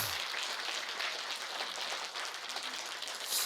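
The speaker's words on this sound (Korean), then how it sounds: "박수 한번 보내주시기 바랍니다" Audience applause at a seminar on separated families, a dense steady clatter of many hands filling the room for a few seconds, with a brief louder swell near the end.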